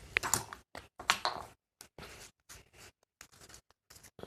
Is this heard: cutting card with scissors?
yes